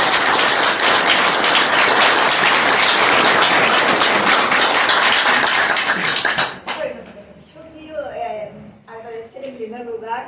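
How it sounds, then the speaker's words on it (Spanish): An audience at a hospital tribute and plaque ceremony gives the doctor a dense, loud round of applause that stops abruptly about two-thirds through, after which a voice speaks. "Vamos a aplaudir al doctor."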